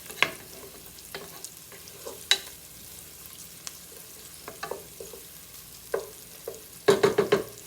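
Tender onions are stirred in a pan while making pasta with peas; a spoon scrapes and clicks in sparse, irregular strokes over a quiet background, ending in a quick burst of rapid knocks.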